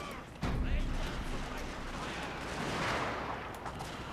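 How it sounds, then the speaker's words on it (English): Massed rifle volleys crackle in Total War Shogun 2: Fall of the Samurai as troops lay down suppression fire, a dense rattle of overlapping shots that sets in sharply and continues to the end over general battle noise. "here I'll order suppression fire"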